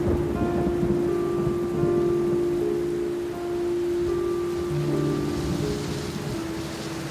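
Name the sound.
heavy rain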